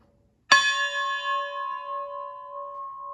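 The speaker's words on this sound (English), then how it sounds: "Over here we have a locomotive bell, and it does ring." A railroad locomotive bell at an L&N depot museum is struck once, giving a bright metallic clang that rings on with a long, slowly fading hum in an otherwise quiet room.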